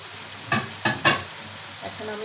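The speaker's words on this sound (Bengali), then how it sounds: "এখন আমি এগুলোকে ভালো করে নেড়ে দিব।" Potatoes stirred into beef curry in a frying pan, three sharp scraping strokes of a spoon over a steady sizzle, then a softer scrape as the frying continues.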